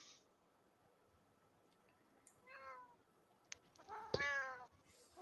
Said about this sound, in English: your cat agrees